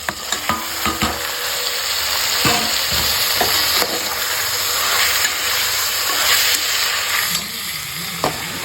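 Green mango pieces frying in a hot pan while being stirred: loud continuous sizzle and hiss with scattered scraping knocks of the spatula, close by and without speech.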